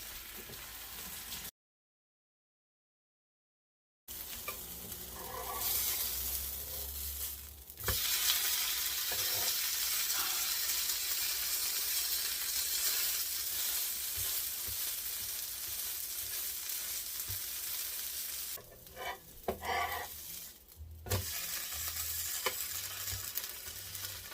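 Pupusa dough cooking in a pan, a steady broadband sizzle with stirring-like scrapes that holds for most of the stretch after a brief gap of silence near the start, with a few dips and bursts toward the end.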